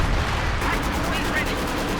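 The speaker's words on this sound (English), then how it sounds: "We're seeing the artillery going in on them." Artillery shells land in a Company of Heroes 2 match, a dense run of booming impacts and crackling blasts filling the whole stretch under a faint commentator's voice.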